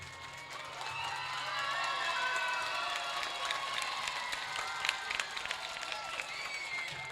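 Crowd of schoolchildren and guests at an Independence Day (15 August) school function clapping and cheering steadily in a large, lively space, with scattered shouts over sustained applause.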